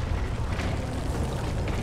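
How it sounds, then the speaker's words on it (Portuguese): Explosions in the video game Battlefield: Bad Company 2, a dense continuous rumble of blasts and debris filling the short stretch, loud and close with no clear gaps. "É só explosões!"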